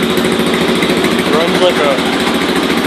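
An 8 horsepower Kohler K181 garden tractor engine idles steadily nearby on a cold start, with a constant droning hum as someone talks over it.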